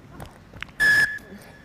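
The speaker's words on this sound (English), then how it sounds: "that's the full-time whistle from the referee, and Altier shakes the hand of his counterpa" Referee's full-time whistle at an under-19 rugby match between Sri Lanka and Hong Kong, one sharp, loud blast of about a third of a second over faint crowd and commentary murmur.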